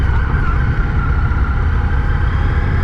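A Suzuki GSX-S 1200 motorcycle rides along with a low, fairly quiet engine drone blended with heavy wind rush, steady and close throughout the short stretch.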